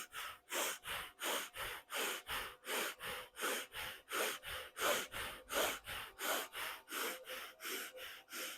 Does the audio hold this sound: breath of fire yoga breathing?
yes